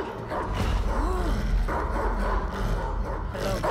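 A terrifying dog barks and growls repeatedly at close range in the racing game Need for Speed: The Run, loud and continuous over a mechanical background.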